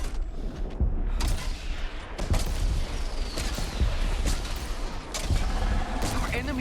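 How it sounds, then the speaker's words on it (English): Explosive weapon fire from a rocket launcher in the video game Death Stranding 2, a run of loud booming blasts and crashes layered over continuous game noise, with several sharp bursts in close succession. "what is this weapon? Like a 7 rocket launcher."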